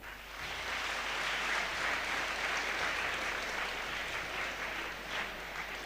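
An audience clapping together, sustained broad applause rising quickly and holding steady for several seconds at moderate distance, with no speech over it.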